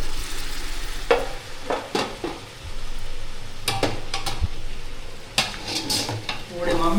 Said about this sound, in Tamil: 10 தக்காளியை நீல வாக்கில் கட் பண்ணதை இப்போ நல்லா வதங்கின வெங்காயத்தோடு சேர்த்துக்கணும்